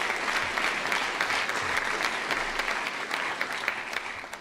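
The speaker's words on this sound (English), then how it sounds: "So one last round of applause for her," A university lecture audience at Northwestern gives a final round of applause, dense even clapping with sharp individual claps popping out, holding steady throughout and tapering slightly at the end.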